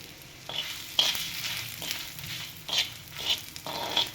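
Coriander seeds roasting in coconut oil in a pan, for Uttara Kannada-style spicy poha, crackle and sizzle close by, broken by several sharp scraping stirs of a spoon against the pan.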